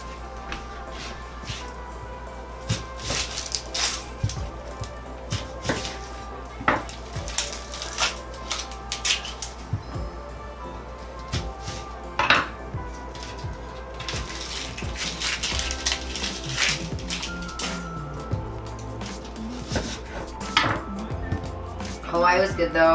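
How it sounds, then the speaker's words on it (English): A knife cuts a yellow onion on a board while vegan ramen is being prepared, giving irregular close taps and knocks over steady background music, with some clinks of kitchenware. "Now I'm going to cut up the regular onion."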